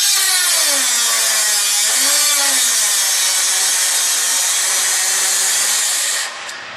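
A Bosch DG300LPD paddle-switch die grinder cutting metal gives a loud, sustained high-pitched grinding whine with a shifting motor tone, running hard without slowing before cutting off near the end.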